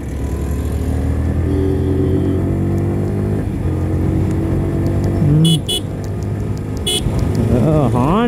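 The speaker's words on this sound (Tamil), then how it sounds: "ஹார்ன்ஸ் எல்லாம் பவரான ஹார்ன்ஸ்." A Yamaha R15 motorcycle horn sounds in a few short blasts near the end, riding over a steady engine drone with someone talking throughout.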